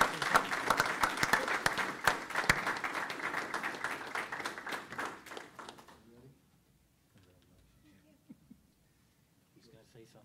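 Applause at a school board of education meeting, a dense sustained clatter of many hands that fades out after about six seconds, leaving quiet room sound and faint voices.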